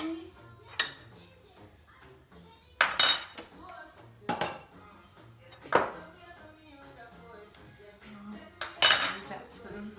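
A spoon clinks and scrapes against dishes and pots in a home kitchen, with several sharp close clatters spaced across the span and quieter rattling between them.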